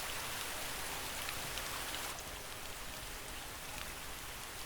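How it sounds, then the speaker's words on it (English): Dense, steady rainfall played as a white-noise backdrop hisses continuously, loud and close, with a slight drop in level midway. "Hell, I even have rain sounds right here."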